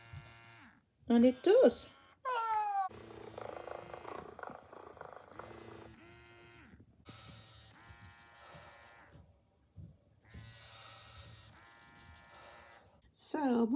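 An animatronic robotic cat mechanism gives off a soft electric whirring and buzzing motor hum that starts and stops in several bursts, broken by short pauses, while a person speaks briefly and a cat meows nearby.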